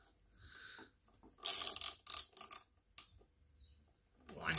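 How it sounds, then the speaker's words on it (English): A ratchet spanner winds a rivet nut insert in with a socket holding the nut, giving a run of close, sharp metallic clicks and rattles between quiet stretches. "Now I'm going to be using a ratchet spanner because I have one, but a normal spanner will do."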